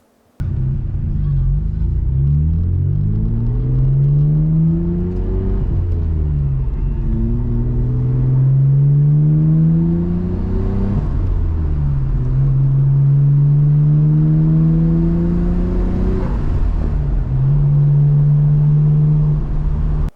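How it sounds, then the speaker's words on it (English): A right-hand drive Nissan R33 GT-R accelerates through the gears from inside the cabin, its engine climbing in pitch, dropping at each shift and rising again, loud and steady throughout. "here's a video of me shifting casually in my right-hand drive R33"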